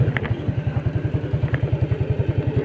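A motorcycle climbing a village road toward the mountains, its engine putting out a rapid, regular low thumping pulse that stays close and steady, with a couple of brief clatters on top.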